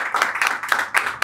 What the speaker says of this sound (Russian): Аплодисменты ему.